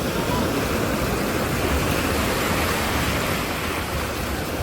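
Ocean waves washing in a continuous broad roar, steady and fairly loud throughout, with no distinct breaks between swells, used as a backdrop for mindfulness meditation.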